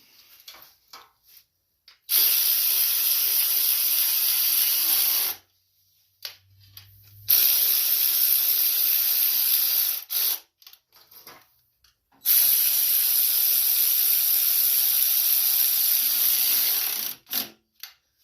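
A ratchet tightens valve cover bolts on a Cub Cadet LT1045 20-horsepower riding lawn mower. Three long, bright, rapid ratcheting runs of about five seconds each sound close up, separated by short pauses with faint handling noises.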